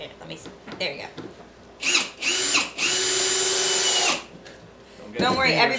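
In a workshop building a Proton Pack prop, a power drill gives a short burst, then runs in a long steady whine for about two seconds before stopping. Tapping and handling noises come before and after, and a voice is faintly audible.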